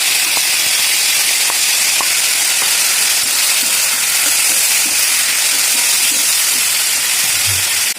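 Boiled beetroot and carrot sizzle steadily in a hot pan while stirred, a loud continuous hiss with faint scraping, no talk.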